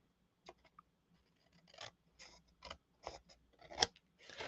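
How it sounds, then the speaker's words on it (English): Several close snips and crisp cuts of scissors trimming paper during stamping crafts, irregularly spaced over a quiet background. "we'll grab our scissors, and we'll just trim"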